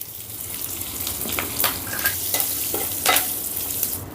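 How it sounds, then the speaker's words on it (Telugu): Curry leaves, dried red chilli pieces and asafoetida frying in hot oil for a tempering, giving a steady close sizzle with brief bursts of crackling and stirring. "పోపు వేగిందండి."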